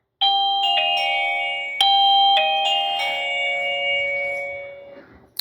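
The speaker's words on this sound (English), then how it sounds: "let's hit the doorbell" Wireless 3K video doorbell chime ringing nearby, a clear melodic sequence of bright bell tones that step through several notes and then fade out slowly.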